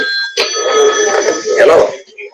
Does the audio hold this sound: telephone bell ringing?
yes